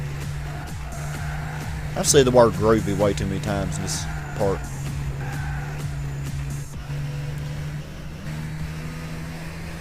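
A Honda Fit race car in Gran Turismo 6 drones steadily with a brief burst of tire squeal, while someone talks over it.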